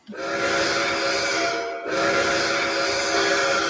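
A steam-style train whistle, a sustained sound dropping out briefly near the middle before resuming, loud and alone with no talk.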